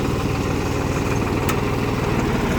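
A diesel tractor engine idles steadily nearby during a rice harvest, with a low, even chugging throb and no voices.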